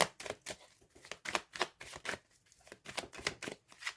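Tarot cards being shuffled by hand during a card reading, a steady series of crisp riffling bursts about twice per second, close and fairly quiet with no talking.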